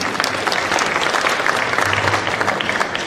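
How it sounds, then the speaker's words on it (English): Audience applause for the judges at an awards event, a continuous dense round of clapping from a sizable crowd, fairly loud and even throughout. "A clap for our judges,"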